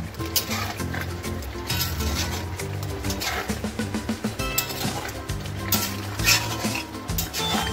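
Chicken curry with potatoes being stirred in a pot, repeated scraping and clinking of a utensil against metal over a soft sizzle, with background music running underneath.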